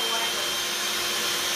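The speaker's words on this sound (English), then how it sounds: "It's a wireless vacuum cleaner." Eureka wireless vacuum cleaner running steadily at close range, a loud, even broadband whoosh with a high motor whine and no break across the short stretch.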